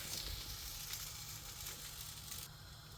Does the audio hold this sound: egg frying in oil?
yes